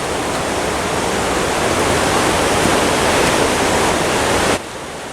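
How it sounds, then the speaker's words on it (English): Silver Creek Falls, where a creek plunges off into a waterfall, roars with a dense, steady rush of falling water, loud and close, easing slightly at the very end. "the creek rushes down and then plunges off into a waterfall right in front of your eyes"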